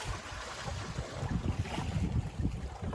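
Ocean water washes and splashes against a sailboat at sea between Hawaii and French Polynesia, a soft, irregular churning rush with some wind noise, no voices.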